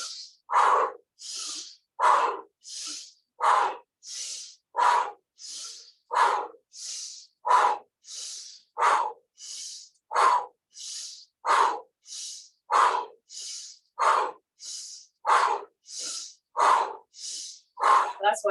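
Deep, steady breathing during an exercise routine, with loud rhythmic inhales and exhales alternating about every second in a regular cycle, close to the listener.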